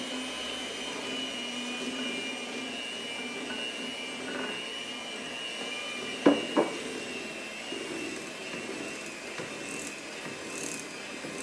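An electric mixer hums steadily while it creams sugar into shortening and butter, a continuous motor whine with two sharp knocks midway and faint clicks near the end.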